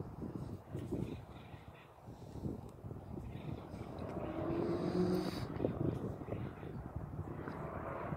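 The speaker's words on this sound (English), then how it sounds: "So it's actually kind of windy out right now" Gusty wind rumbles and thumps against the microphone, rising and falling over several seconds, with indistinct voices in the background.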